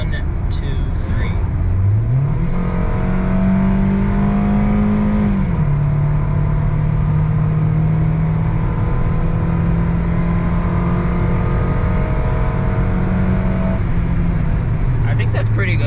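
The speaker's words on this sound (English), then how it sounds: "I'll actually punch it and see what it picks up." A Honda Orthia car accelerates hard, its engine revving up in a rising drone that holds and shifts pitch as it climbs through the gears, loud and close from inside the cabin.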